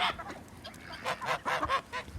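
Farm ducks and other fowl being fed vitamins honk and quack in short, uneven bursts at close range, with quiet gaps between calls.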